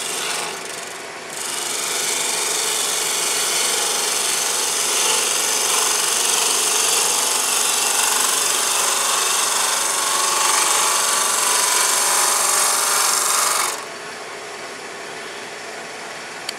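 A big roughing gouge takes gentle cuts on a spinning wood lathe, producing a steady, loud, broadband rasping shear that runs continuously for about twelve seconds before dropping back to the quieter hum of the lathe; no talking.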